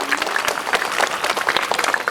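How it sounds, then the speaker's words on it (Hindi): A crowd at an International Yoga Day event claps steadily during a lamp-lighting ceremony, a dense, continuous patter of many hands at close to moderate distance. "सभी लोग दोनों हाथ ताली से बजाइए, ताली बजाइए"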